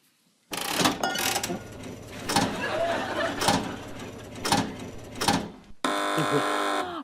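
A run of sharp mechanical clacks and rattles, then a sustained electronic buzzer tone sounds for about a second at the end, on a TV panel quiz show.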